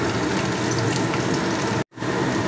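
Ten to twelve small-chopped garlic cloves fry in hot oil for a restaurant-style chilli chicken, giving a steady, dense near sizzle that cuts out briefly near the end and then resumes.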